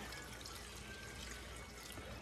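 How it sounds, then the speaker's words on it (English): Water pours steadily into a cooking pot of vegetables, a continuous splashing trickle close by with no other sounds. "So now we're gonna add some water"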